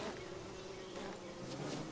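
Bees buzzing steadily in the game Don't Starve, a dense insect drone filling the clip with no talk over it.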